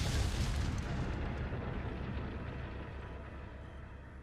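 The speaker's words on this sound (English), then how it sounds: "Fire the cannon!" A video game cannon firing one loud, deep boom with broadband blast noise that slowly rumbles away over several seconds, heard alone with no talk.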